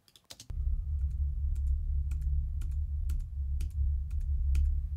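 A computer keyboard key is pressed repeatedly, giving about ten crisp, evenly spaced clicks close up over a steady low electrical hum.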